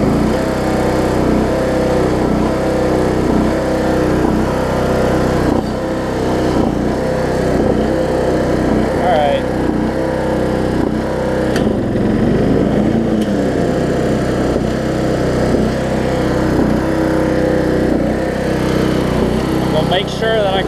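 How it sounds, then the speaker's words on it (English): A Weed Eater riding mower with a Briggs engine runs steadily and loudly throughout, its constant motor drone holding an even pitch, with someone talking over it at times. "this thing just sounds a little different than the other Briggs engines I've had."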